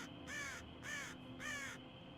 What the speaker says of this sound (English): Echo was a soundboard and made the crow noises.